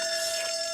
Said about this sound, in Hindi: ये अलार्म कहाँ से बजा?